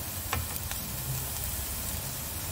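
Sautéed onions sizzle steadily in a pan as chopped spinach goes in, a continuous close, moderately quiet frying hiss with a few light utensil taps, no talking.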